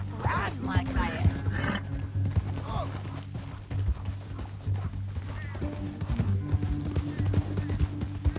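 Horse hooves clip-clop in a steady, rhythmic gait while riding in the Red Dead Redemption 2 video game, fairly close, with characters talking over the hoofbeats.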